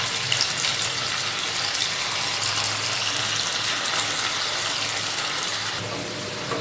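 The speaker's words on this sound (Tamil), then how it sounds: "இதே மாதிரி எல்லா சிக்கனையும் நம்ம பொரிச்சு எடுத்துக்கலாம்." Chicken pieces deep-frying in hot oil for street-food style chicken fried rice: a dense, continuous bubbling sizzle, loud and close, holding steady before easing slightly at the end.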